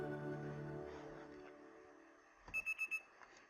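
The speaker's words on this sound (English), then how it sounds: "The next day, my alarm is going off" An alarm clock rings inside the Pokémon Legends Z-A video game, sounding as four quick, bright electronic beeps after the game's music and ambience fade out.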